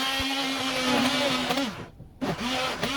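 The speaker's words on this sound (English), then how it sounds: "use the electric mixer to make it smooth" An electric hand mixer purees Finnish spinach soup in a pot, whining loudly and steadily, then briefly cutting out before starting again.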